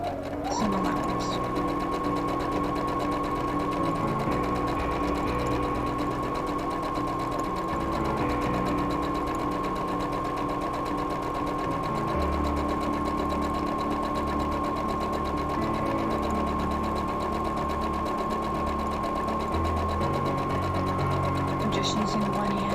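A sewing machine stitches a seam in fabric with a 5/8-inch seam allowance while making a green jumper from a 1950s reproduction pattern. The needle runs in a steady, close mechanical whir that holds unbroken for the whole stretch.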